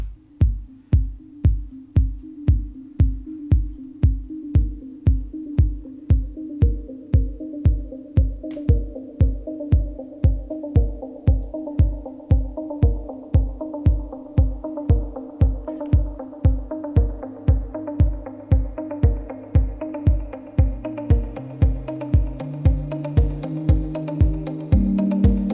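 Afro house song intro with a steady four-on-the-floor kick driving throughout, warm bass and pad chords gradually building brighter layers over about twenty-five seconds, no voices.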